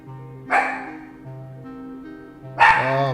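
Dogs bark twice, about two seconds apart, each bark sharp and fairly close and trailing into a short yelp against a quiet background hum.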